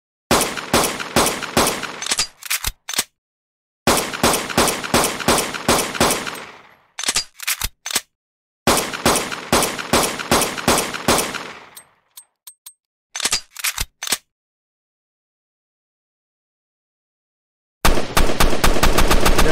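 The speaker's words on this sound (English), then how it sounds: "right now you can notice that we can shoot and we have no limit to the bullets" A pistol in a Unity first-person shooter game fires repeatedly in loud rapid bursts, several long strings of shots separated by short silences, ending with a dense final volley.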